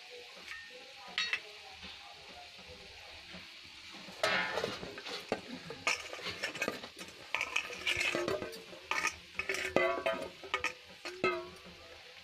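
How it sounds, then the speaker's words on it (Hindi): Mixed vegetables with cauliflower, capsicum and spices stirred in a hot pan: sizzling frying under repeated spoon scrapes and metallic clinks against the pan, sparse at first, then busier and close. "हम सब्जी को मसाले के साथ अच्छे से मिक्स कर देंगे।"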